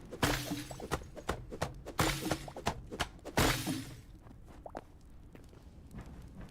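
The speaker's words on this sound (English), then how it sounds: "They have a glass break sound to them." Windows shattering in the game Whiskerwood, a run of sharp close glassy cracks and tinkling breaks in quick irregular bursts, then fading to quieter scattered clinks.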